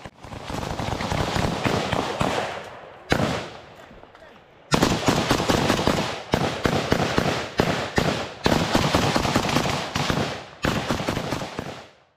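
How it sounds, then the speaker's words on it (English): Sustained machine gun suppressive fire during a close combat engagement between Ukrainian and Russian forces, with loud rapid bursts running nearly continuously and broken by short pauses. "Suppressive fire is mainly used during these engagements."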